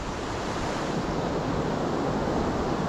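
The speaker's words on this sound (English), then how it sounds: "lots of gallons and gallons and gallons of water every second goes down there" Water of the Hethpool Linn waterfall rushing through a narrow gorge, a steady broadband roar, loud and continuous, with no voices or other sounds over it.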